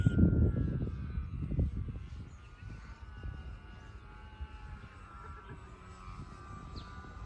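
A Dynam P-51 Mustang V2 electric RC model plane on its maiden flight at a club flying field gives a thin, distant motor whine that drifts and fades as it circles, with a louder rumble of wind or handling noise at the start.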